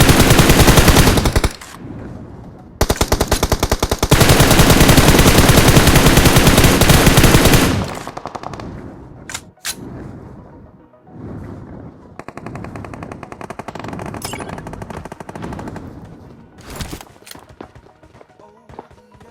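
Bursts of automatic machine gun fire in the BGMI battle royale game, loud and sustained at first, then scattered shorter volleys and distant shots with game sounds between them.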